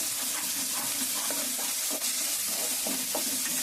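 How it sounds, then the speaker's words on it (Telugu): Masala and small Godavari fish stir-fry in hot oil, giving a steady loud sizzle with soft scraping stirs coming through every so often. No one speaks over the frying. "మనం ఇప్పుడు ఈసారి మొత్తం అంతా కలిపి ఒకసారి వేపుదాం"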